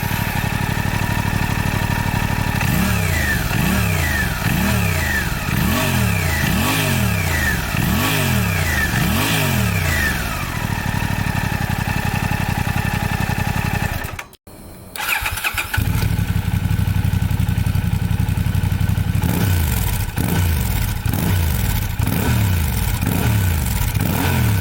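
A Honda Hornet motorcycle fitted with an SC Project exhaust starts and is revved repeatedly while standing still, loud rising-and-falling blips over a rough idle, then a brief cut and a steady, deeper idle.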